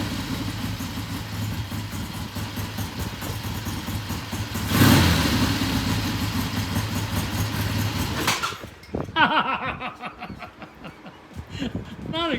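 A Triumph motorcycle engine runs after a kick start, a steady near idle that rises into a louder rev and then drops off. Someone talks over it at times.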